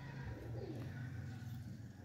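Pigeons coo softly and steadily in a Punjabi loft, a low repeated murmur filling the background throughout.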